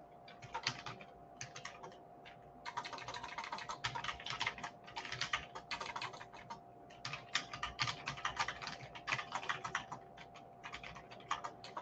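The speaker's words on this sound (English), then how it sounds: "I'm just typing in here" Steady, rapid typing on a computer keyboard: dense bursts of clicky keystrokes with brief pauses, close and clear, with a faint constant hum underneath.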